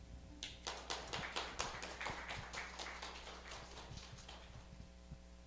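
A lunch-and-learn audience gives a round of applause, a brisk burst of hand claps that starts sharply and thins out over several seconds, heard at a moderate distance.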